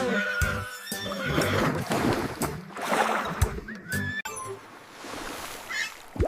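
A horse in a children's alphabet song gives a loud, close whinny, a shrill quavering neigh that rises and falls over several seconds, with snorting, breathy sounds around it and no speech.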